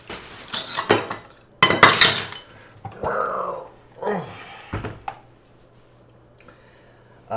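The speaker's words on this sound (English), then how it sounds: "let me move the stand mixer over so that you can see it" A stand mixer is shifted across a kitchen counter while making cinnamon roll dough, giving loud clattering knocks and scrapes, a few squeaky metallic slides, then quieter handling and near silence.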